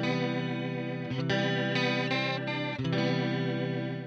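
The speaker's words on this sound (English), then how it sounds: "Now, of course, I can add chorus. and also vibrato." An electric guitar runs through a chorus and vibrato effect from the built-in DSP of a UR-RT audio interface with Rupert Neve transformers, with shimmering, wavering sustained chords that shift a few times, played alone with no talking.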